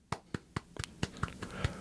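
Hand clapping: about a dozen soft, close claps in an uneven, slightly quickening rhythm, heard alone with no talk.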